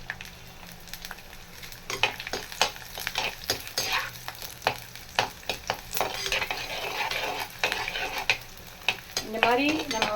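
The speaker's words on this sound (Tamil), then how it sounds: "முதல்ல பூண்டு போட்டுப்போம் இந்த பூண்டு நல்லா வதங்கட்டும்" Garlic sautés in a pan for garlic dosa, a soft sizzle under repeated spatula stirring and scraping strokes, close and fairly quiet, with no voices.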